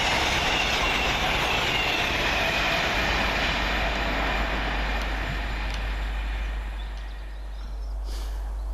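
Two coupled Class 221 diesel units speed through Leighton Buzzard station, a loud, sustained roar of engines and wheels on rail that holds close before easing slightly near the end.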